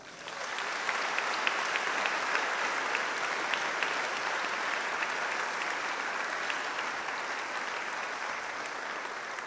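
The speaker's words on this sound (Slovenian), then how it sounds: "prav vsi si zdaj zaslužijo velik aplavz." Audience at a school awards ceremony breaking into big applause for top students, dense steady clapping that swells in after a brief quiet start and holds evenly, somewhat distant in a large hall.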